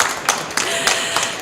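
Audience applause after a speaker's introduction at a panel on climate and ocean action, a short burst of scattered hand claps, moderately loud and continuous for about a second and a half.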